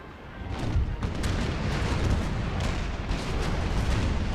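Massed cannon fire rumbles through a Napoleon Total War battle with Ottoman forces, repeated deep booms rolling one into another in a dense, continuous barrage at moderate distance.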